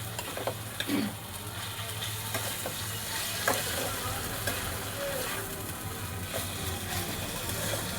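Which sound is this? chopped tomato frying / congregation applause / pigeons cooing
chopped tomato frying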